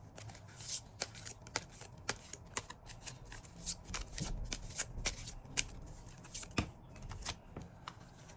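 Tarot cards are shuffled and handled close by, with sharp riffling flicks and soft sliding rustles in an uneven rhythm, heard alone without talk.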